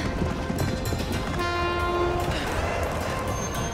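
A train rumbles past nearby while its horn sounds a sustained tonal blast midway through, with a steady rail noise continuing underneath.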